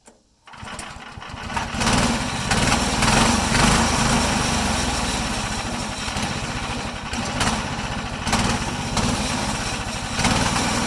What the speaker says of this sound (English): it roughly barely stays idling with the choke on